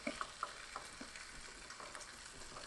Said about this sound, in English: when you're doing bacon on the stovetop, it's very easy for it to get too hot and burn